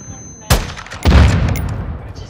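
Hip-fire gunshots in the Modern Warfare II shooter: a sharp loud shot, then a second heavier burst of gunfire about half a second later that rings out and decays slowly, over a low game background.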